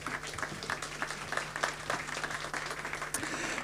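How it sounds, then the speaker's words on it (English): Audience applause at the opening of a biotech conference, a continuous patter of many hands clapping at moderate volume over a faint steady hum. "Welcome them with applause, please."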